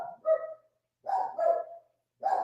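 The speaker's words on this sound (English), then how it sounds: "The dog is going wild." Dog barking excitedly in three bursts of loud, close barks with short gaps between them, no talk over it.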